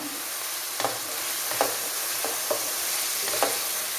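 Pork ularthu with green chillies sautéing in a pan, a soft continuous sizzle broken by a few sharper stirring scrapes and clicks, fairly quiet with no talking.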